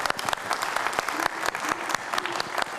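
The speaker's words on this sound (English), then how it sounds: "Let's give them applause." A conference audience at an alternative-energy technology event applauds, with sharp individual claps standing out over a steady wash of clapping, moderately loud and uninterrupted.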